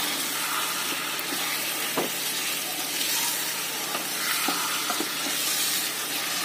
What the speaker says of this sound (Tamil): அந்த மசாலாலாம் நல்லா இந்த சிக்கன்ல பிடிக்கிற அளவுக்கு நல்லா கிண்டி விட்டுட்டே இருங்க